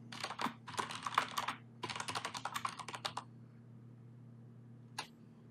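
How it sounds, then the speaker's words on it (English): Fingers clatter on a computer keyboard in quick close bursts of keystrokes, pausing briefly between runs, then one last isolated tap after a quiet stretch. "Let me type this out."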